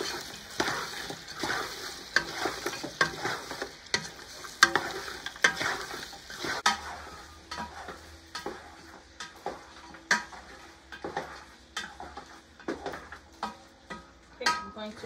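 Onions frying in a pan as the base of a lamb stir fry, with a crackling sizzle under frequent sharp scrapes and taps of a utensil stirring against the pan, close and fairly quiet.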